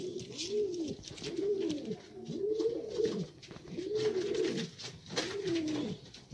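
A hunting pigeon coos close by in a steady repeating pattern of soft, rolling calls, about five phrases with short pauses between, no talk over it.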